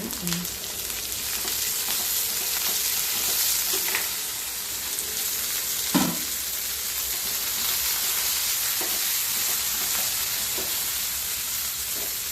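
Onion fries in a pan with coriander leaves added for a green peas masala gravy: a continuous, loud frying sizzle with a few stirring scrapes and clatters near the middle.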